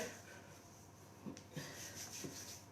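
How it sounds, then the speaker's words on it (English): Messy hands rub off sticky dough, a faint close-up rubbing and scraping with a few soft brushing strokes over a quiet background. "Just rub off the dough."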